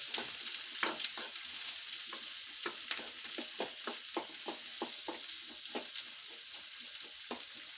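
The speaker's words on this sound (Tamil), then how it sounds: "நல்லா கிண்டணுங்க." Food fries in a pan under a continuous bright sizzle while a spoon stirs it, with quick repeated scrapes and taps against the metal in a busy, irregular rhythm, close and loud, without talk.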